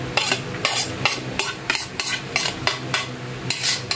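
Fish sinuglaw being tossed with chili, ginger and onion, with a utensil knocking and scraping in a quick regular rhythm of about two strokes per second, close and fairly loud, no talking.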